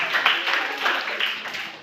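Brief burst of applause from students in a classroom, a dense patter of clapping hands that swells and fades over under two seconds.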